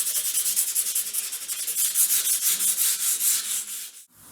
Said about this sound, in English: I'm using the sandpaper almost like just to clean it down, because it's hardly taking anything off